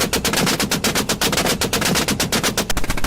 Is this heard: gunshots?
yes